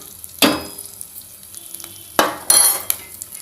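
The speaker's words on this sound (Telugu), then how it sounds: "తర్వాత కరివేపాకు కూడా వేద్దాం. కరివేపాకు ఇది పడుతుంది కదా, అందుకే మూత పెట్టాను." Curry leaves dropped into hot oil for fenugreek dal, bursting into loud sizzling and spluttering in two sharp surges, then crackling that fades under a covered pan.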